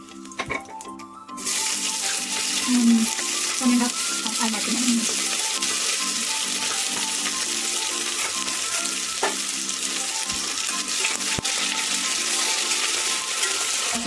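Chopped onions with fennel seeds and dried fenugreek sizzle steadily in hot oil for a village-style chicken biryani, a close, continuous frying hiss with occasional stirring scrapes, no talking.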